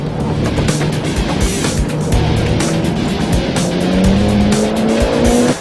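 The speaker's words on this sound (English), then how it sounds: "First up, the Evo. Nice, this thing's quick off the line." A Mitsubishi Evo X accelerating hard from a standing start, its engine loud and close with rising revs and shifts, tires squealing briefly under load.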